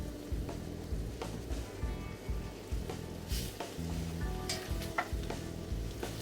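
Julienned carrots sizzling in butter in a pan, with a steady frying crackle and repeated scrapes and knocks of stirring close by, and no talking.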